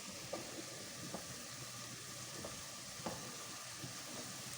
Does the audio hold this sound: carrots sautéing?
yes